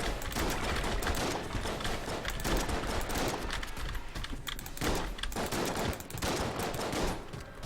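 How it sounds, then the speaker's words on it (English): Rapid, dense gunfire from the video game Enter the Gungeon crackles almost without pause, loud and close, with short gaps between bursts of shots. "I was just firing one normal shot because just in case"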